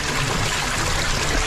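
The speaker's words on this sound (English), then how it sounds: "Up the waterfall we go!" Water pours down a waterfall inside a cave, a steady, dense rushing wash that holds evenly loud and close throughout.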